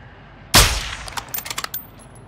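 Video game gunfire from a rival team: one sharp loud shot, then a quick scattered run of fainter rapid shots with no talking.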